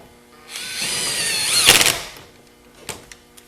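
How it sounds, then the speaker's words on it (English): Power screwdriver driving a screw into the left side of a Volvo 850 dashboard: one whirring burst of about a second and a half, close and fairly loud, ending in a short rattle, then a faint click. "And now let's install the screw for the left side dash."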